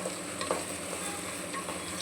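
Vegetables frying in oil are stirred for a soybean pulao, a steady low sizzle with a few soft scraping touches of the spoon, close and continuous throughout.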